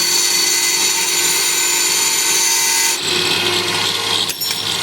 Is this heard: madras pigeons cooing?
no